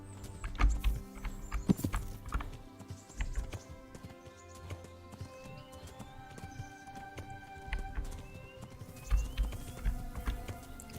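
Horse hooves clip-clopping in the Kingdom Come: Deliverance video game, a steady rhythmic trot of close, distinct hoofbeats running the whole time over a quiet game soundscape.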